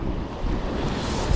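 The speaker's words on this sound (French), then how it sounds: "à écouter la mer, les vagues" Sea waves breaking against a seawall during a fishing session, a continuous close wash of surf and rushing water mixed with wind noise, loud and steady throughout.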